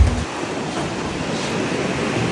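Sea waves wash steadily along the Syrian coast with a continuous broad rush of surf mixed with wind noise on the microphone, close and moderately loud, with no talking.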